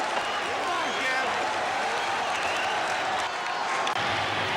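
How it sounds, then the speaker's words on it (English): A baseball stadium crowd at the 1989 World Series roars with sustained cheering and applause as a batter comes up, loud and dense throughout with a broadcaster's voice faintly under it. "the crowd comes very much alive again as Kevin Mitchell comes to the plate"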